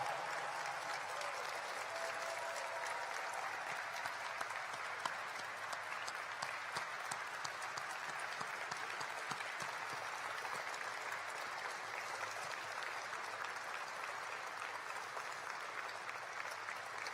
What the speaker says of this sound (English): So would you join me in giving a vigorous round of applause to Commander Bob Behnken and Commander Doug Hurley